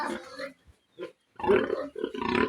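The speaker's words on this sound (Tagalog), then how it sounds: "Napakalaki ng baboy." Close, loud grunts and snorts from a very large pig come in several bursts with short pauses between them.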